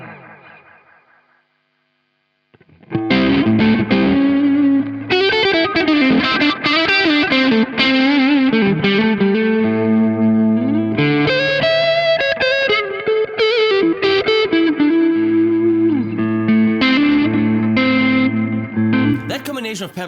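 An electric guitar lead tone runs through distortion and echo pedals, playing a loud, sustained melodic line with bends and repeating echoes. A brief faint lead-in and a moment of silence come before it.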